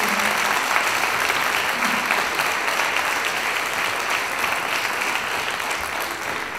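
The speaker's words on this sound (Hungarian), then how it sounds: "Kérünk szépen nekik egy nagy tapsot." An audience at a music and dance show claps loudly and continuously in a dense, sustained wash of applause that tapers off slightly at the end.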